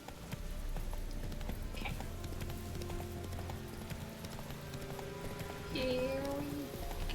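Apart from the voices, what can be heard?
horse hooves clip-clopping in video game Witcher 3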